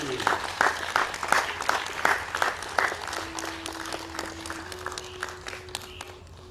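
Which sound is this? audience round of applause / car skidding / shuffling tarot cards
audience round of applause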